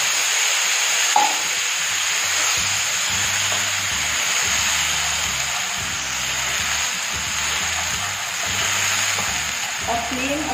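Ginger-garlic masala paste frying in a pan with taro root and carom seeds, a steady loud sizzle with occasional stirring scrapes throughout.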